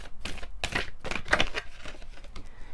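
A deck of tarot cards shuffled by hand at close range, giving quick papery riffling and slapping bursts in an uneven rhythm, with no talking.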